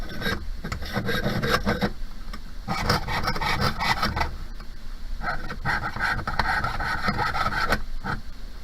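A jeweler's saw cuts through a metal pendant held on a bench pin, the rapid rasping strokes continuing steadily and close up, with a worn blade and brief pauses.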